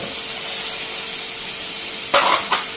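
Onions frying in white oil with a little salt, a steady hiss of sizzling throughout with a couple of louder bursts of stirring or spattering near the end.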